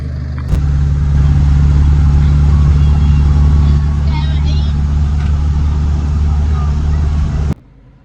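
A lorry's engine drones loud and steady from inside the cab on a test drive, a low rumble that holds for several seconds before cutting off abruptly near the end.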